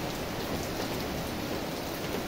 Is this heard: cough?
no